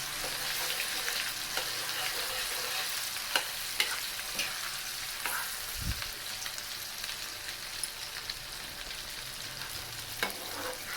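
Ground mango gojju fries in a pan while being stirred, with a steady sizzle under scattered scraping clicks and one low thump near the middle.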